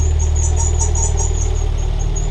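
A Nissan 300ZX twin turbo engine idles steadily and close by, a loud, even low rumble with a faint squeaky belt chirping above it.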